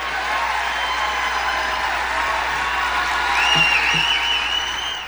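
An audience applauds after a speech by Trump: sustained clapping and crowd noise build slightly, with a few high whistles cutting through near the end.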